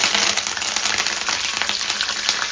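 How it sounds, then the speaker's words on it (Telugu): Urad dal and mustard seeds spluttering in three spoons of hot oil for tempering, a loud, close, dense crackle of rapid pops and sizzle. "ఉద్దిపప్పు, ఆవాలు మనకి చిట్టపట అని సౌండ్ వచ్చి పర్ఫెక్ట్గా వేగాలన్నమాట"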